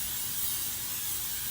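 Cooking spray hisses onto a baking dish in one steady, continuous burst at close range, with no talking.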